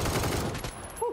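Brief burst of gunfire in PUBG on console, a short, loud rattle of shots at the start that fades quickly, with faint voice-like sounds near the end.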